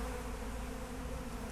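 Honeybees buzz in a steady, continuous drone throughout, close and even in level, with no voices.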